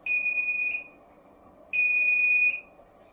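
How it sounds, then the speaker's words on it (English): A laser security alarm built as a student project for jewelry shops, ATMs and museums, giving two long, loud, piercing electronic beeps of under a second each, separated by a short gap, with no voices. "when vehicles also crosses the laser alarm system, it creates the sound."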